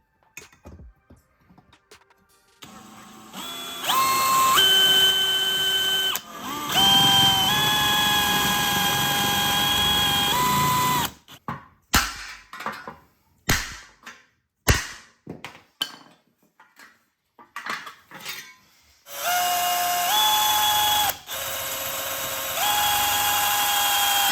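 Power drill boring holes in the rear of a Mitsubishi Evo 9 in a garage, with loud sustained high-pitched whining bursts of several seconds each, broken by pauses and short clicks and knocks between runs.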